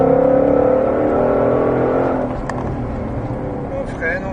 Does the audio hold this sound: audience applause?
no